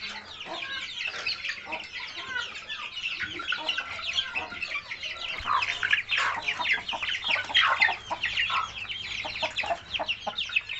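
Young aseel chicks about a month and a week old chirp busily while eating homemade feed, a dense close flock of high peeping calls overlapping continuously, fairly loud, with a low hum entering partway through.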